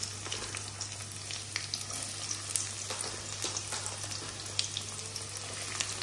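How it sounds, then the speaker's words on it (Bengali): Chopped onion frying in hot oil after fenugreek seeds, a steady close crackling sizzle that holds evenly throughout with small pops, alone without talk, over a low background hum. "তারপরে পেঁয়াজ কুচিটা একটু কেটে রেখেছিলাম সেটা দিয়ে দিলাম"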